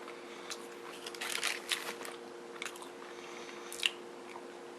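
Bites of a Burger King breakfast ciabatta club sandwich being chewed close up, soft wet squishing with a few crisper crunches scattered through a quiet few seconds, no talk.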